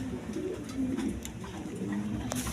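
A male pigeon coos in low, rolling, repeated phrases, close and steady, against a faint background murmur.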